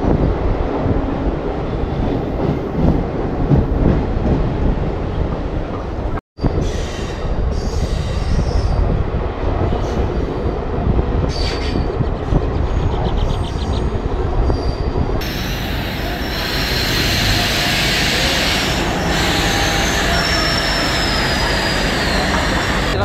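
Train running along the Sevok railway line near a toy-train track and bridge in North Bengal, with a continuous loud rumble of wheels and carriages and squealing wheels, a brief dropout, then brighter rushing noise in the later part.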